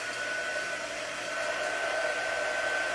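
A hair dryer blows steadily on wet paint for a craft project, a constant close whooshing hum with a faint high whine and no pauses.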